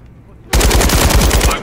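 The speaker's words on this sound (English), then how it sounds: "I'm taking fire." Rapid automatic gunfire in a video game bursts in suddenly after a quiet lead-in, then rattles on loud and continuous as a fast stream of close shots.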